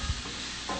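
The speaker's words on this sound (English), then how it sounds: "I'm just sort of like tossing these to get them all covered in the hot grease" Onions tossed with a wooden spoon in hot grease, a brief, quiet sizzle with a soft stirring scrape.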